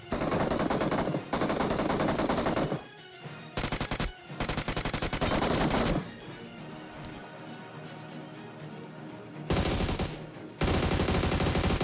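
Bursts of automatic gunfire in the BGMI battle royale video game, loud and dense, rattling in long sustained volleys broken by brief pauses, with no speech.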